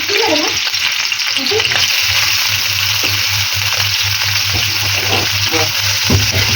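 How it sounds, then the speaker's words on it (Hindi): Onions frying in hot oil in a kadhai wok give a loud, steady, close sizzle that carries on unbroken, with occasional stirring scrapes on top. "जैसे हमारा ऑयल गर्म हो गया हम अपनी प्याज डालेंगे।"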